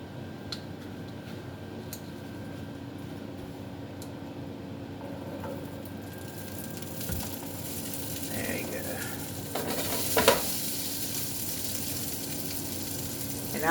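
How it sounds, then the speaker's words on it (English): Salmon bites frying in a skillet on high heat, a steady faint sizzle running throughout with a few light clinks of utensils and stirring toward the end. "All right, got my skillet going here."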